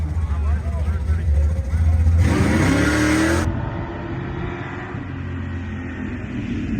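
A classic muscle car accelerating hard at a drag strip, a loud engine roar rising in pitch with a quick gear change, then fading away as the car pulls off down the track.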